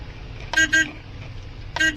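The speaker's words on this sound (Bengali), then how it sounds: "আমি হর্ন দিচ্ছি" A car horn gives two quick toots close together and then one more a second later, near and fairly loud over a low engine rumble on a narrow local road.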